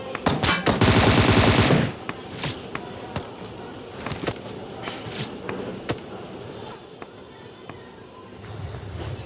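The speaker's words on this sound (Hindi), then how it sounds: "पीछे से एक रियल बंदा मेरे को टपाटप मार रहा था M16 से" Rapid M16 gunfire in a video game, a loud dense burst of automatic shots for about two seconds, then scattered single cracks and short bursts at varying distances.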